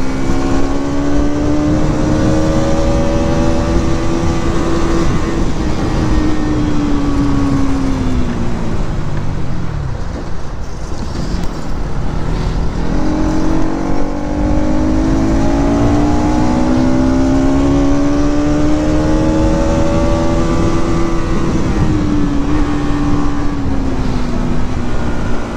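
A Bajaj NS200 motorcycle rides through city streets, its engine droning loud and close, rising and falling in pitch as it revs and shifts, with rushing wind behind it throughout.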